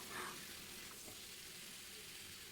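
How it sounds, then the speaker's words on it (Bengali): Neem leaves fry in oil in a pan, a steady soft sizzle with faint crackles and an occasional stir, heard alone at a low level. "নিম পাতাটা আমি একটু বেশি করেই ভাজছি"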